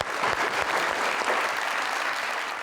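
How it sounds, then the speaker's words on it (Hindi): An audience claps for the winner of a beauty-cream contest on a TV show, a dense, steady round of applause heard close and alone for a few seconds. "इमाद अली, इनके लिए बहुत सारी तालियां।"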